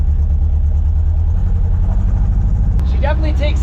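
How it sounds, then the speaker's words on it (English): A lowrider car's engine rumbles loud and steady with a deep, throaty exhaust drone close by, and a voice begins speaking over it near the end. "But the exhaust is definitely louder."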